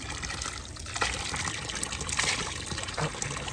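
Hot spring water, piped down from springs above a cold mountain village near Siachen in Pakistan, runs and trickles with a soft, continuous splashing rush at low volume.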